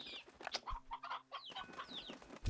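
Hens clucking in the farming game Slime Rancher 2, a handful of short, close clucks and chirps scattered in quick succession over a quiet background.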